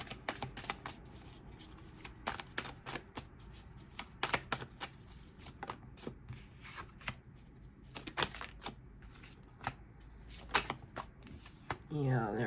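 Tarot cards being shuffled in a series of crisp riffles and flicks, close and fairly quiet, with brief soft rustles between them and a louder handling noise at the very end.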